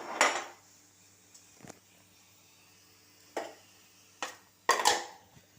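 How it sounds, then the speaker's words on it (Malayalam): Spice paste for an anchovy and grated coconut dish scraped into a clay cooking pot, heard as several separate scraping and knocking bursts of a utensil against the pot with quiet pauses between. "ഒരു ചട്ടിയിൽ നെത്തോലി പീര വറ്റിക്കാനുള്ള അരപ്പ് അതിലേക്ക് ഇടാം."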